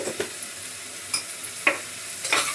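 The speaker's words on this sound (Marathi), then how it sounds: "जरासं परतून घेते, का तेल नाही जास्त ना तर लगेच करपू शकतं खाली" Vegetables sautéing in a little oil in a home kitchen pan, with a faint steady sizzle broken by several sharp scraping stirs of a spoon against the pan, no talking.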